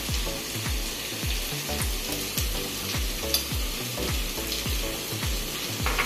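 Spiced dry fruit masale bhat sizzles in a pan while being stirred, a steady frying hiss with regular scraping strokes of the spoon, close and continuous with no talk.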